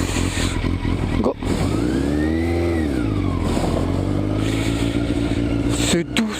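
A Yamaha Fazer motorcycle engine revs up and accelerates on the road, the pitch rising and falling through a gear change, loud and close with brief breaks between pulls.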